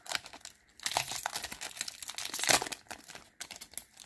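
Foil wrapper of a Pokemon Unified Minds booster pack being torn open, close crinkling and ripping in rapid irregular bursts, with no voices.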